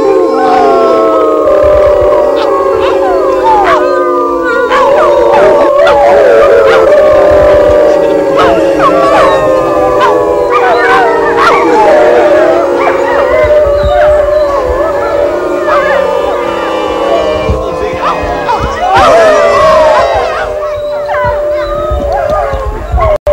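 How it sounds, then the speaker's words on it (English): Wolves at the Bronx Zoo howling together, several long overlapping wavering howls with yips and whimpers, loud and close, continuing without pause across the whole stretch. "howling very gently to them, very gently and non-threatening, just a few howls all together"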